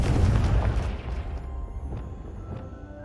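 A Confringo blasting spell explosion in the video game Hogwarts Legacy, a single deep boom that rumbles and decays over a few seconds, with a couple of faint crackles in the tail.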